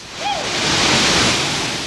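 Continuous loud rushing roar of a waterfall, with a brief voice at the start, then the broad steady wash of falling water filling the rest.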